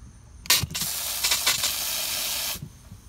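Water hisses out of a repaired garden hose sprayer in a steady broadband spray that lasts about two seconds, with a few short bursts at the start. It is fairly close and heard alone, with no talk.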